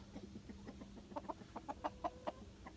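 A chicken clucks close by, a series of short, clipped clucks that quicken and grow louder toward the end over a quiet farmyard background.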